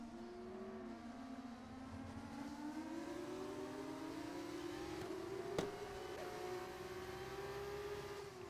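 F2 race cars on track with one trying to overtake: high-pitched engine whines rise steadily as the cars accelerate, several tones layered together, heard at a distance and fairly faint, with one short sharp click partway through.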